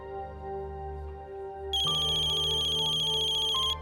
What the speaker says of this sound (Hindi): तुमने फोन साइलेंट पे नहीं किया था?